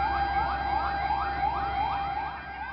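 Wailing fire truck siren from local-government fire engines responding to a blaze at a row of shop-houses in Papua, Indonesia; a steady, loud, repeating rise-and-fall sweep that continues throughout, with no voices.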